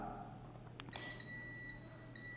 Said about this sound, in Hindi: ग्राउंड से दोनों तरफ बीप दे रहा है